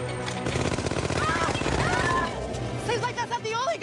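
Rapid bursts of gunfire from a supposedly possessed gun in a comedy sketch, a loud sustained automatic volley running under overlapping dialogue and cries.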